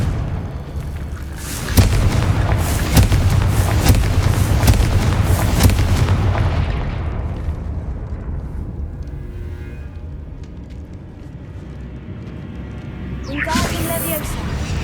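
Fiery Confringo spell blasts in the video game Hogwarts Legacy, booming explosions crackling over a few seconds early on, then fading into a rumbling tail with a later pop, mixed with game sound.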